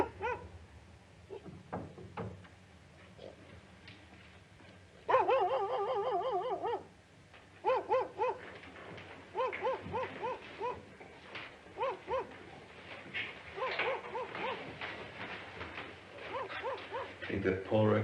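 A dog whimpers and yips in short, repeated high-pitched bursts, fairly close, with some loud outbursts, mixed in with a tense indoor scene in a 1977 horror film where people speak.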